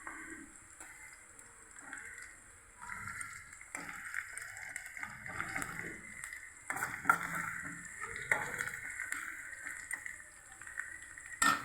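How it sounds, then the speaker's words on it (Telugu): Bitter gourd curry with green chillies sizzling and frying in a pan until browned, a steady soft crackle with stirring scrapes, close and fairly quiet, no talking. "బ్రౌన్ కలర్ వచ్చే వరకు కూడా వేగాలి."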